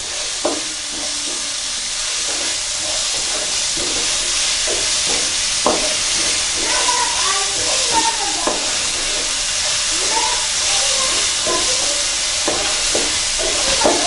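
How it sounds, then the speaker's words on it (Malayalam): Chopped onions and a little salt sautéing in a pan for Kerala chicken roast, a steady close sizzle with frequent stirring scrapes and clicks throughout, no talking. "ഉള്ളി നന്നായി ബ്രൗൺ കളർ ആവുന്നത് വരെ വഴറ്റുക."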